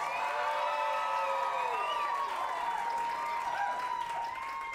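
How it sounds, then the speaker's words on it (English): An improv comedy show audience claps and cheers, a steady wash of crowd applause with whoops and rising shouted voices layered over it, fairly distant and even throughout. "we're going to get a round of clap"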